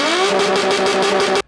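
A Nissan Z car engine revs hard in one loud, sustained, brassy blare held close for over a second before cutting off abruptly, with no voices.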